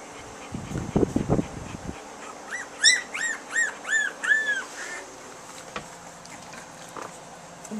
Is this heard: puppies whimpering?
yes